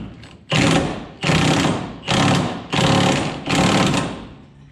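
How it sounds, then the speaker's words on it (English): Impact gun driving a 32 mm nut on a Borgeson power steering install in a 1966 Mustang 289, five loud, close hammering bursts separated by short pauses. "I highly recommend using your impact gun"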